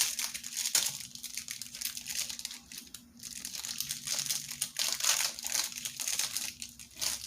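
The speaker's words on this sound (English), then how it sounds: "if I can get it out of the plastic." Plastic packaging crinkles and crackles continuously up close as an item is worked out of it, in uneven bursts of rustling with no talk.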